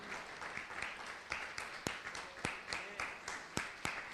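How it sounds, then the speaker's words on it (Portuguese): A church congregation at a worship service applauds in praise, giving soft, fairly distant clapping with a loose rhythmic pulse of stronger beats, heard alone and not very loud. "Vamos aplaudir o Senhor"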